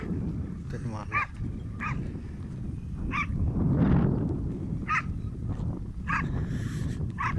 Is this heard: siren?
no